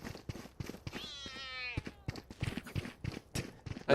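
A cat meows at a volleyball match, one drawn-out rising and falling meow heard clearly amid scattered thumps, footsteps and faint background voices.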